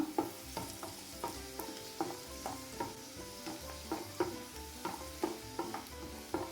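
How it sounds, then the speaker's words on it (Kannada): Grated carrots fry and sizzle in ghee in a pan for carrot halwa while a spoon stirs them, scraping steadily and rhythmically over a constant sizzle, close and moderately loud, with no talking. "ಈಗ ಜಸ್ಟ್ ಫ್ರೈ ಆಯಿತು"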